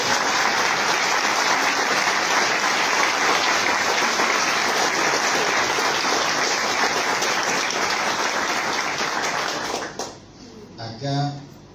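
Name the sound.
applause from the audience at a university event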